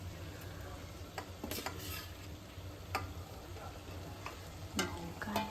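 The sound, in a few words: chicken being stirred and cooked in a pan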